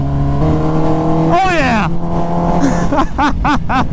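A 1200hp twin-turbo Lamborghini race car revs nearby, its engine pitch sweeping up and down in several quick bursts. A voice speaks briefly over it.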